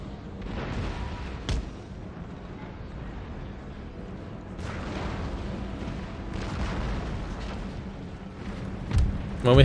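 Cannon volleys in Empire: Total War, a Prussian campaign battle, with repeated deep booms at irregular intervals over a constant rumbling battlefield background.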